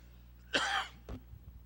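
A preacher coughs once loudly during a sermon, a short harsh burst followed by a smaller throat-clearing sound, in a quiet room with faint low hum.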